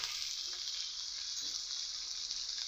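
Salted pumpkin pieces frying in oil in a pan, a continuous soft sizzle with faint crackles and occasional stirring, fairly quiet and steady, with no talking.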